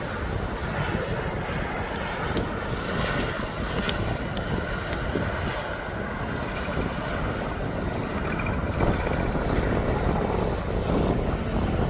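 A passenger jet taxiing at East Midlands Airport, a Ryanair-style flight bound for Dublin, gives a steady, loud broadband engine rumble and whoosh with wind buffeting the microphone throughout.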